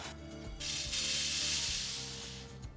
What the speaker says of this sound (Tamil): மிதமான தீயில் வச்சுட்டு நான் ஒரு ரெண்டு நிமிஷமாக தாங்க வறுத்துட்ருக்குறேன்